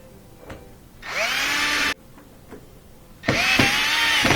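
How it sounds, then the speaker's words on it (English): A power screwdriver drives screws into a Miele dishwasher during a falling-door repair, two loud whirring bursts of about a second each, separated by a quiet pause with faint handling clicks. "We're going to put those screws in."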